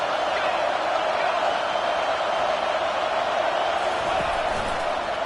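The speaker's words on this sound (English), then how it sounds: "This crowd trying to make life miserable for this offense." A packed stadium crowd at an LSU football game roars as a steady, loud wash of noise, with a play-by-play voice talking over it.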